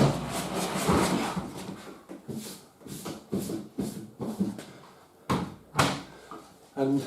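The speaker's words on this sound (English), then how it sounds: "just open the door and pull it out." The door of a Samsung washing machine is handled during pump repair work, a series of close plastic clunks, bumps and rattles in irregular bursts, with sharper knocks near the end and quiet gaps between.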